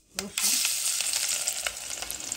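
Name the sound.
garlic frying in oil with panch phoron and dried chilli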